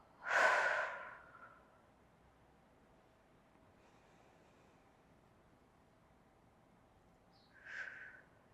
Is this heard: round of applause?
no